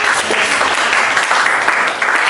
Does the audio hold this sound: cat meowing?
no